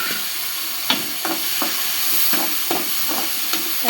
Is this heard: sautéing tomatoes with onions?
yes